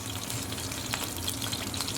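Marinade hits hot oil in a pan with a steady broadband sizzle and fine crackle throughout, close and moderately loud, with no talking.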